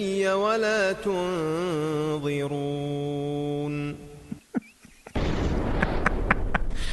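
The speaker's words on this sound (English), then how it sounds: "Any song that begins with a sound effects of an explosion" A sustained synthetic tone and warbling sounds give way to a loud, noisy burst like an explosion effect, rumbling on with scattered cracks.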